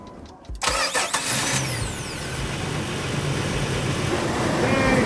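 An overlanding vehicle's engine cranks briefly with the ignition key and catches, then settles into a steady, close idle that runs on alone.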